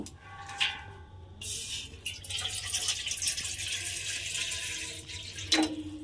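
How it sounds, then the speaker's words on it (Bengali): Water poured into a kadai on a gas stove, a steady close splashing stream lasting several seconds after a brief clatter, ending with a knock of the vessel. "এবারে আমি প্রথমে এর মধ্যে জল দিয়ে দেব।"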